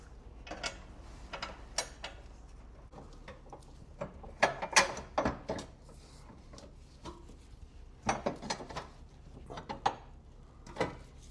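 Bolts are threaded back in by hand on a Subaru WRX GD inner fender brace, giving irregular ratcheting clicks and metallic taps in short bursts at close range.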